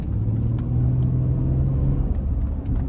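A V6 car engine rumbles steadily at a low pitch in drive at about 30, close by and fairly loud, holding an even drone throughout.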